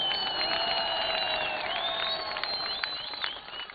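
Large crowd at a political rally in Pishin, Balochistan, clapping steadily and loudly for several seconds with scattered cheers.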